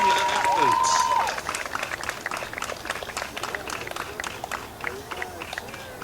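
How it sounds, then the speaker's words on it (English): Applause from the crowd at a high school girls' varsity soccer game for the senior athletes, scattered outdoor clapping that starts loud and then thins to lighter, uneven claps, with a tone sounding early on. "Let's have a big round of applause for all our senior athletes"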